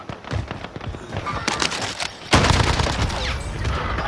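Gunfire in the Call of Duty Warzone video game: loud, rapid bursts of shots close by, building to a heavier, sustained barrage in the second half, with no voices.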